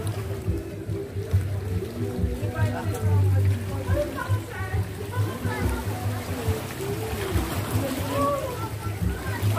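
Sea water splashes and sloshes nearby amid a steady low motor drone, with people talking over it.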